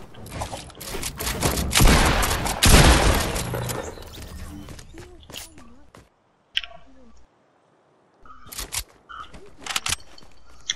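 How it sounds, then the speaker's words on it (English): Gunfire in the Fortnite video game, a dense loud volley of shots in the first few seconds followed by scattered clicks and quieter sporadic pops, with a voice talking between bursts. "You shot me through the wall."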